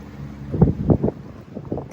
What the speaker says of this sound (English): There's the wind. Finally shows up.